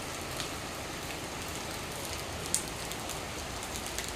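Steady rain falling outdoors over covered areca nut in a farm setting, a constant soft hiss with scattered drops, moderately faint and alone.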